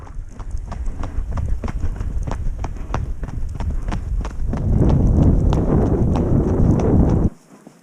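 A horse's hooves galloping through a blizzard, a fast drumming rhythm of thuds under heavy wind buffeting the microphone, loud and close, ending abruptly.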